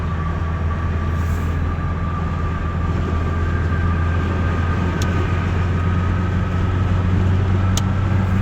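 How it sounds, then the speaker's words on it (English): Cabin road noise in a 1988 Ford Ranger XLT with a 2.3L engine and a five-speed manual, cruising at highway speed. A steady, loud low rumble and broadband tire roar continue without a break, with a faint hum on top and no talk. "it does have some road noise"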